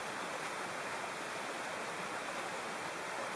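A waterfall beside a mountain trail in Nepal makes a continuous, even rushing roar, heard faintly from a distance with no other sounds.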